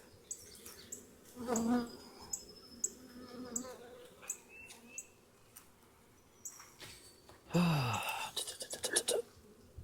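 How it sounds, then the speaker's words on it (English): Bees from a swarm fly around beehives with a faint buzzing hum, broken by rustling, knocks and handling noises. A brief voice-like sound comes near the end. "the rest of these flying bees around here"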